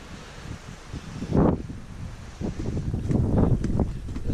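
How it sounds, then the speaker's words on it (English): Strong gusting wind buffets the microphone high on an exposed mountain pass at Pelion Gap in Tasmania, rumbling in uneven surges that swell louder toward the end, with no voices. "The wind starts to ease back a little."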